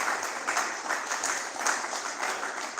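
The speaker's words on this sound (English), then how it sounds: "Please keep the applause going, ladies and gentlemen, until Builder Chuks takes the right positio" Steady audience applause fills a conference hall at a builders' gathering, a dense wash of many hands clapping continuously at even loudness with no talk over it.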